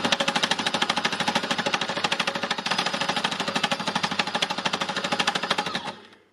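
An embellishing machine needle-punches lace into fabric with a fast, steady mechanical chatter, loud and close, its rapid even rhythm running without pause before stopping abruptly near the end.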